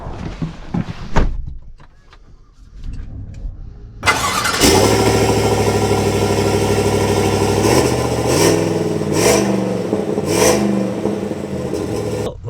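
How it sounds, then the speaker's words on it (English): A 2025 Chevy Silverado pickup truck starting up and pulling away, with a door thunk and starter whir giving way to a loud, close engine drone that rises and shifts through several revs as it drives off. "Let's set off on the Chevy first"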